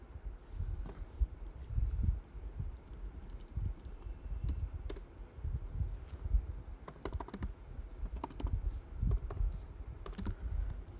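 Steady typing on a computer keyboard while writing code, quiet close key clicks in an uneven rhythm with occasional louder clusters of taps, no talking.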